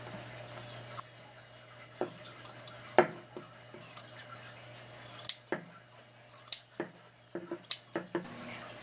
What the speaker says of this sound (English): the next step is to cut off the selvage from the edges of the fleece